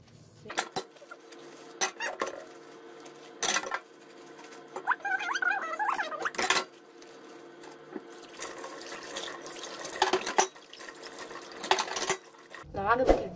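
Dishes being washed under running water: a tap splashes while plates and cutlery clink and clatter intermittently, close by.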